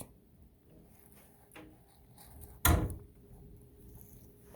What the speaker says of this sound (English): All right, so these are just drawers.